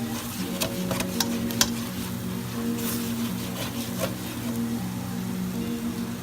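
A flour roux for crawfish étouffée cooks in a pan while being stirred. A soft sizzle runs under scraping utensil strokes and a few sharp clicks near the start, with a low steady hum in the background.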